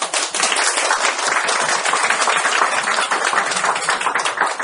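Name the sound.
audience applause at a seminar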